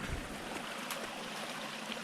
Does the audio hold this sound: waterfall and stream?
yes